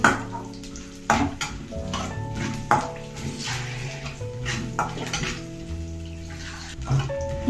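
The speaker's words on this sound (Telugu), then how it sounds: "ఈ కోపులు బాగా ఫ్రై అయిపోయాయి కదా" Ingredients for a Telugu spinach and onion-paste dish fry in hot oil in a pan, with a steady sizzle under repeated utensil scrapes and clanks against the pan and some faint tonal sounds in the background.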